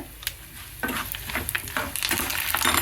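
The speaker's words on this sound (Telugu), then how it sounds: "జీడిపప్పు, కరివేపాకు వేసి బాగా వేయించుకోవాలండి" Cashews and curry leaves frying in oil for mango pulihora, a bright crackling sizzle that flares up partway through, with stirring scrapes and spatters close by.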